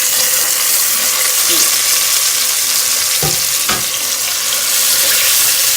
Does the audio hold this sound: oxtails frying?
yes